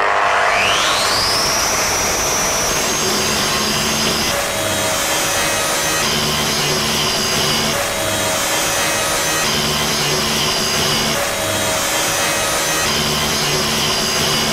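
An angle grinder with a flap disc works iron in a loud, steady grinding whine that runs on alone, with a slight rise in pitch as it spins up and faint periodic surges as the disc bites.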